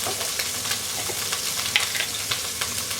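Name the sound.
onions frying and browning in a pan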